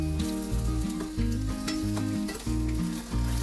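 Garlic potato slices fry in a pan with a steady close sizzle and intermittent stirring and scraping sounds, with no voices.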